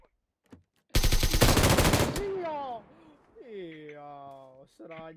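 Video game automatic gunfire, a rapid loud burst of shots lasting about a second, followed by electronic sweeping tones and a brief final blast, with players' voices faint around it.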